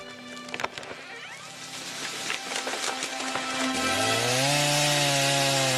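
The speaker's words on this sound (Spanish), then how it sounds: "las motosierras emiten su característico ronroneo mecánico" Chainsaws cut into chestnut trees being felled, a rough rasping bite that rises into a loud, steady whining roar of revving saw engines.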